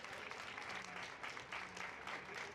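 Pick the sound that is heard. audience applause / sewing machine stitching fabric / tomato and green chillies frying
audience applause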